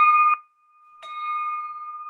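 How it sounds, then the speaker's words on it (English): Small hand bell struck twice at a Rotary Club civic luncheon meeting, clear sustained metallic tones ringing out near and loud with a short pause between strikes, no voices. "I always love those bell ringers"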